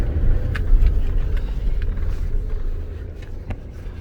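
Engine of a Ford Transit van running while driving, a steady low rumble with road noise throughout, fairly loud and constant with no speech.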